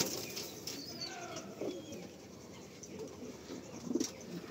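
Female pigeons in a home loft, with soft low cooing and occasional wing flaps over steady rustling ambience, a louder flurry near the end.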